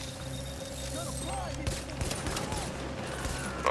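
Rifle gunfire in the video game The Division, sharp cracks scattered through a busy game mix, with a louder shot near the end over steady background noise.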